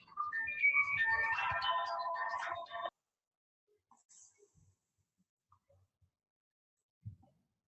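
An incoming call's ringtone plays nearby as a melodic electronic tune for about three seconds, then cuts off into near silence with a few faint rustles and a brief voice.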